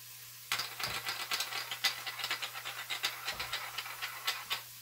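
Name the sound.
food sizzling while being sauteed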